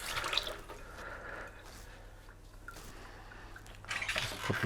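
Peeled boiled eggs being rinsed under a running kitchen tap, with a steady stream of water and dripping that swells near the end.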